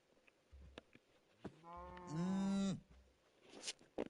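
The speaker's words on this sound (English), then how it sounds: "Look at the baby cow actually makes a different noise too." A baby cow in the Minecraft video game gives one drawn-out, high, bleating moo near the middle, loud and close, between soft game footsteps and clicks, with no talk over it.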